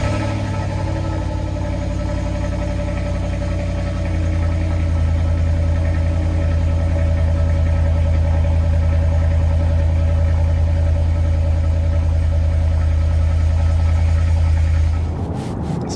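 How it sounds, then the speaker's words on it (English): A 2007 Volvo S80 with the 4.4 V8 and an unmodified stock exhaust idles steadily up close, giving a loud, constant low rumble that deepens slightly partway through, with no talking. "The exhaust is, there's nothing done with it at all, and it sounds good."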